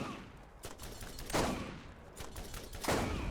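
Video game gunfire in Borderlands 1 Remaster, with repeated bursts of shots at steady intervals over a dense, noisy battle background with no talking.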